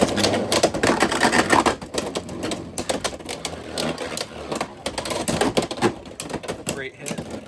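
Beyblade X spinning tops clash inside a stadium in a rapid, dense clatter of hard knocks that runs nearly the whole time.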